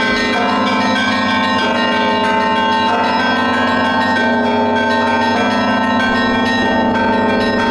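Orthodox church bells rung by a bell ringer, a layered peal of several bells struck in a repeating rhythmic pattern, loud and ringing with long overlapping resonance, heard alone without talk.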